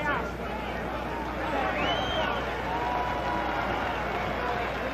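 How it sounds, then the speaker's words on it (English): A boxing arena crowd applauds the fighter Paret, a steady, broad roar of clapping and cheers filling the whole stretch, with a commentator's voice running over it. "Crowd is applauding Paret,"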